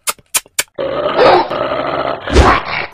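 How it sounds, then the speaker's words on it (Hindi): A dog growls loudly and continuously at close range after a few short sharp sounds, the snarling rising into a harsher burst near the end. "कुत्ते काट, आज तुझे काटना पड़ेगा।"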